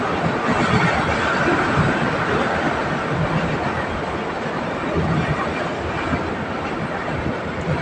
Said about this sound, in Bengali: আর এই ট্রেন গাড়ি যাচ্ছে দেখুন।